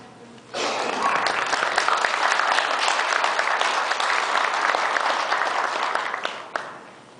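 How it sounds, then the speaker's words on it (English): Wedding guests break into sustained applause, a dense crowd of clapping that starts abruptly, holds steady for several seconds, then fades out. "A round of applause."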